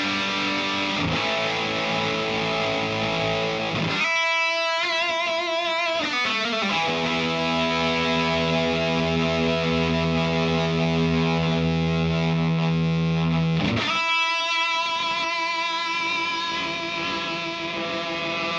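Electric guitar driven through a JHS Andy Timmons overdrive pedal at full gain, played at low room volume: loud, saturated sustained chords and ringing notes with short gaps, heavy distortion throughout, no voices.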